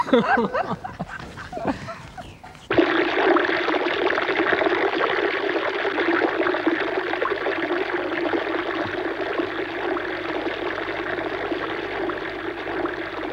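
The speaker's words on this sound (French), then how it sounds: "C'est beau un jet d'eau quand ça jaillit, hein?" A water fountain jet gushes steadily under pressure, a loud continuous rushing spray that starts abruptly after a brief stretch of other sound and holds for over ten seconds.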